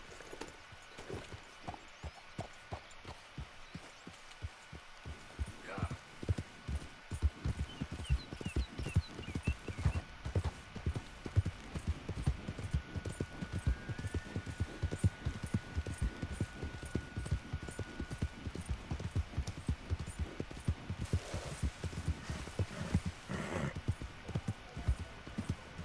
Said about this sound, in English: My horse!